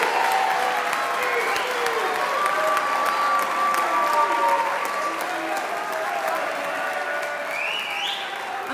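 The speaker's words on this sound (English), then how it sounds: "Let's give them a round of applause." Sustained applause from a crowd fills the room, dense steady clapping that gradually thins toward the end.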